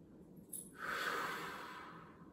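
A deep inhale followed by a long, steady exhale during a seated relaxation breathing exercise, soft and close with no talking.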